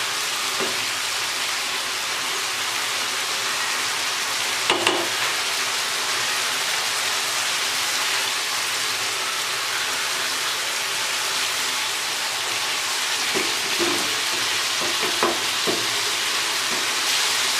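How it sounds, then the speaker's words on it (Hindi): Chicken pieces fry on a hot tawa with yogurt and spices, a loud, steady sizzle that runs throughout, broken by a few soft clinks of stirring. "दही का पानी खुश्क हो गया है, अच्छे से भुनाई होगी।"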